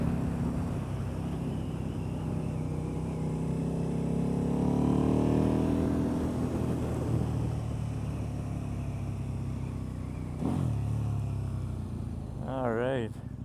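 A KTM RC8 sport motorcycle being ridden hums steadily with wind noise, its engine note swelling and easing, with a rider speaking briefly near the end.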